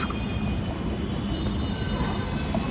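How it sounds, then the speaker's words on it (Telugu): A train pulling into a station, a steady, loud rumbling roar that holds evenly throughout with no voices over it. "ఇంతసేపు ఆగిన ట్రైన్ వస్తుంది"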